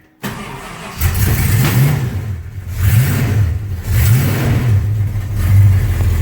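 A Buick with an overheating problem starts and its engine revs in several rising and falling surges as the accelerator is pumped, loud and close, settling toward a fast idle between pumps, no talking.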